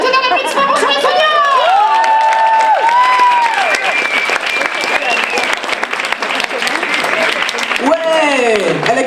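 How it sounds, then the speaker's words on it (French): A French comedy stage audience breaks into loud applause, with sustained clapping mixed with cheers, whoops and high-pitched shouts from close up, carrying through to the end. "Attendez un applaudissement pour Shirley Soignant"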